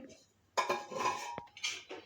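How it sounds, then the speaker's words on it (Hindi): A metal rack set down inside a pressure cooker: a cluster of bright metallic clinks and scraping rattles over about a second and a half, close and clear, with faint speech nearby. "फिर उसके ऊपर जाली रखी जाती है।"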